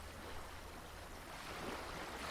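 Soft, steady wash of ocean waves on a white-sand beach on a summer morning, a quiet continuous hiss with a low rumble underneath and no clear individual breakers.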